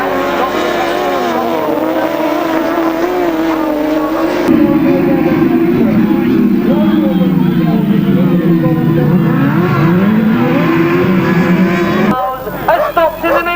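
1000cc sidecar grasstrack racing outfits on the last lap into a top turn, a loud continuous engine roar that swells and shifts pitch as the bikes pass, with a commentator talking over it.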